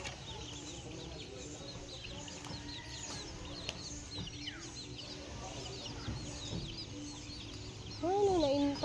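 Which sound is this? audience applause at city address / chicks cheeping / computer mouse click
chicks cheeping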